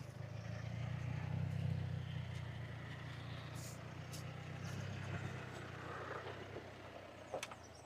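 A car drives past and turns on a road in a rural community setting, with a steady low engine rumble throughout at moderate distance, no talk over it.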